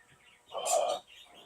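A short, bright chirp from a pet bird rings out nearby, a single call standing out against quiet background hiss.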